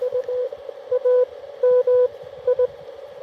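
Morse code tones sending an amateur radio call sign, heard as a steady sidetone of short dits and longer dahs in clipped bursts, clear and alone with no talk.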